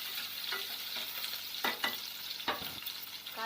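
Cucumber curry ingredients, garlic and onion, are stirred in a sizzling pan, a steady frying hiss broken by a few scraping strokes of a spoon.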